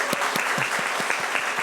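A church congregation at a Sunday worship service claps after the choir's hymn, a loud, steady round of many hands with a few sharp nearby claps standing out.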